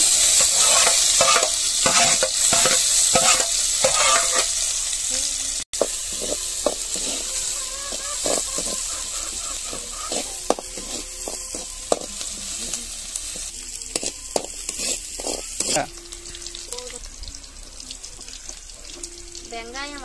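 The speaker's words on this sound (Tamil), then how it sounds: "எண்ணெய் காஞ்சிச்சு, கடுகு போடணும். வெங்காயம், பச்சை மிளகாவை போட்டுக்கலாம்" Mustard seeds, onion and green chilli fry in hot oil, giving a loud, steady sizzle with repeated stirring clatter and scraping throughout, plus brief tap-water splashing and a few sharp clinks near the end.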